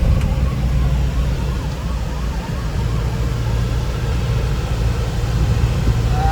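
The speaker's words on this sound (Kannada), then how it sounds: "siren hockey ambulance ಹೋಗ್ಕೊಂಡು" An ambulance siren wails through steady traffic rumble on the road from Mangalore to Tirupati, its rising and falling tone faint and distant against the noise.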